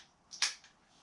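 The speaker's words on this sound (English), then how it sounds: "Let me cock that just so it's out of the way." A single quick metallic click as the hammer of a Czech .380 pistol is cocked, short and sharp, close and fairly quiet with near silence around it.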